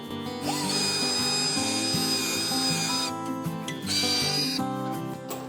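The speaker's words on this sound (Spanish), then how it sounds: "como siempre hago un pequeño agujero con una broca de madera del 3" A power drill with a 3 mm wood bit bores a small hole in a wooden drawer unit, a loud high whine that holds steady, cuts out briefly, then spins up again.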